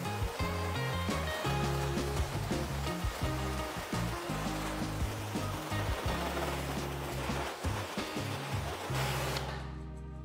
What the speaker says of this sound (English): I want to make sure I'm rinsing from different angles just to get all of that off